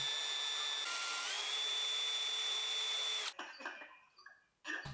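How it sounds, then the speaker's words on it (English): A steady high-pitched drill motor whine runs continuously for about three seconds with a gritty abrasive hiss as a brass part spins in the chuck against a scouring pad, then cuts off, leaving scattered clicks and handling noises. "I polished up all of the solid brass parts by putting them into the chuck of my drill"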